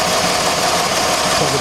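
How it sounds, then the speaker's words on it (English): A 2006 Jeep Grand Cherokee 3.7 engine idles with a cylinder 3 misfire, a steady close rumble with uneven texture that runs through the whole short stretch. "Number 3 cylinder. There's the Misfire."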